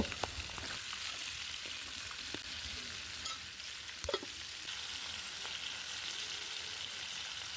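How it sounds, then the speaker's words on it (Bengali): Steady, close hiss of pangas fish frying in hot oil, with occasional sharp pops and faint utensil taps. "এখন আমি একে একে সবগুলো মাছ এই যে দিয়ে দিব এখানে দিয়ে ভালোভাবে ভেজে নেব"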